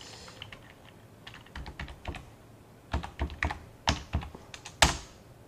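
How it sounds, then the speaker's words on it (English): Keys on a computer keyboard tap out a password in uneven clusters, sparse at first and then quicker, ending in a firmer Enter-like press; close, moderately loud and without speech. "And like you type the password you just set."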